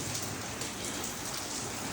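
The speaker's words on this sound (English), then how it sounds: "You are looking at the rain." Heavy rain pours steadily in Islamabad, Pakistan, a dense, even hiss of drops on surfaces at moderate level with no voices.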